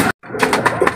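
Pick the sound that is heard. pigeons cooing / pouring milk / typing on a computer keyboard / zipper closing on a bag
pigeons cooing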